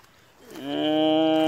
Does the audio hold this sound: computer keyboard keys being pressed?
no